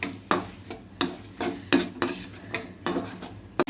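Fresh sundakkai being stirred in oil in a pan, a series of close, rhythmic scraping and clinking strokes of a spoon against the pan, roughly two per second.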